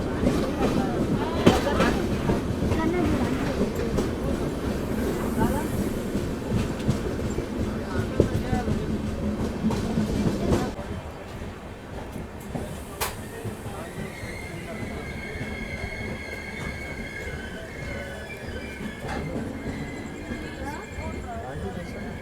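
The 12794 Rayalaseema SF Express rolls along the rails with a close, continuous rumble and rhythmic clatter, loud at first and then settling into a softer steady run, while a person talks over it.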